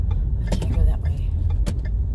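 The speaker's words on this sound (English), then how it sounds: "it's really scary driving a rental car." A rental car drives through San Ignacio village in Belize, heard as a close, low interior rumble with a few sharp knocks and clicks.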